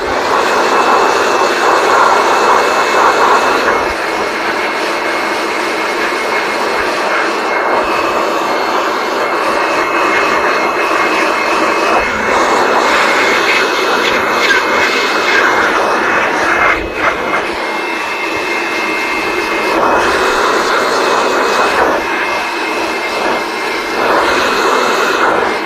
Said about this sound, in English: Let's speed up the process with our blower.